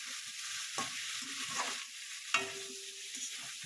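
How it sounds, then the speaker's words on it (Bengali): Ground turmeric, cumin and coriander sauté in a pan, a soft, quiet sizzle broken by intermittent stirring scrapes. "গুঁড়ো মশলাটা দিয়ে দেবো, হলুদ, জিরে আর ধনে দিয়ে একটু"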